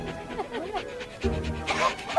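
A pup whines and yips in short rising cries close by, with a louder burst of barking near the end and a voice faintly under it.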